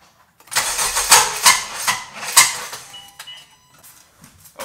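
A cold Honda Civic Si engine cranks and catches in one loud, rough start, with bursts of churning and sputtering before it settles into a quieter, uneven idle.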